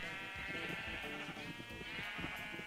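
Sheep in the Minecraft video game bleat in a steady overlapping chorus of nasal, wavering calls, fairly quiet and continuous, with no talking.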